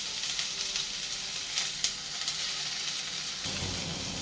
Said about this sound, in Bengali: পেঁয়াজটা ভালো করে ফ্রাই করে নেবো, লাল করে